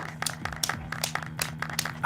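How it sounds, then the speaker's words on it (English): Game clapping in Apollo Justice: Ace Attorney, a quick run of sharp, fairly loud hand claps in an uneven rhythm over a low steady tone, about a dozen claps in two seconds. "Listen to the clapping."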